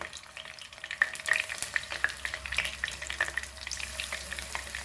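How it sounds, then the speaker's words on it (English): Prawns frying in a pan of oil give a steady close sizzle with scattered crackling pops, and no one speaks over it. "So fry like this only all prawns to golden brown."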